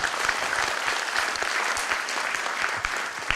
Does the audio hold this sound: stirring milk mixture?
no